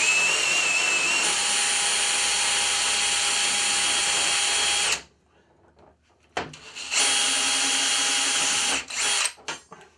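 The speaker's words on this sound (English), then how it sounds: "And I am going to drill right through." A power drill with a 7/64 bit whines steadily as it bores through round stock, stops for about a second, then runs again for a second burst that ends in rattling handling noise.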